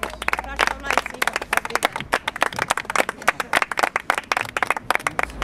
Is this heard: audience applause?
yes